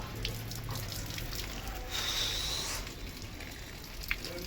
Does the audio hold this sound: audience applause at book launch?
no